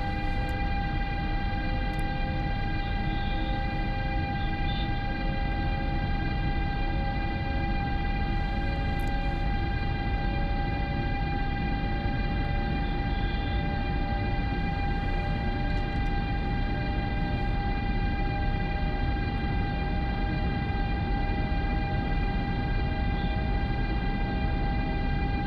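A BR186 electric locomotive hauling an IC+ passenger train from Zwolle to Zutphen in Train Simulator 2021 pulls away and accelerates. It gives a steady, loud cab drone with sustained whining tones and an even rolling rumble throughout.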